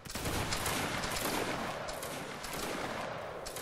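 A musket volley in a video game battle of Bavaria and the 10e against Prussia: a dense, ragged crackle of many shots fired together, loud and sustained for several seconds, with no voices.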